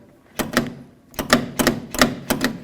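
A locked 1988-2002 GMC Sierra 1500 door's outer handle is pulled repeatedly, giving a string of sharp plastic-and-metal clicks and clacks, roughly six snaps in uneven pairs, close and fairly crisp.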